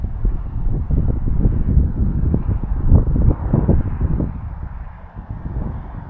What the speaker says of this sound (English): a stronger wind than when we first came